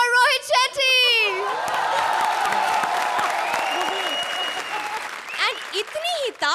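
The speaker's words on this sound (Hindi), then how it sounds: "A big applause for Rohit Shetty." Studio audience applause and cheering on a Hindi comedy show, loud dense clapping with whoops and shouts, opening and closing with a host talking and cheering over the crowd.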